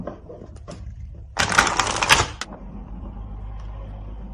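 Tarot cards shuffled and laid out on a table, a brief dense riffling flutter lasting about a second, close and clear against a quiet background hum.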